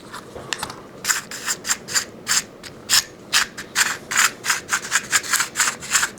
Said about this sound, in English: Then here's the sound of reeling it in right here.